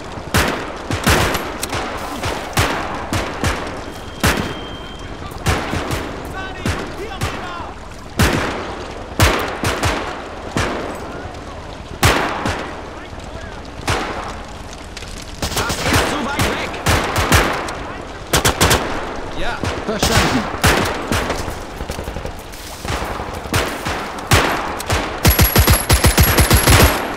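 Heavy battlefield gunfire from the video game Call to Arms – Gates of Hell, set in 1939 Poland on the way to Warsaw: loud rifle shots and bursts of machine-gun fire crack repeatedly, some near and sharp, others distant, with occasional voices.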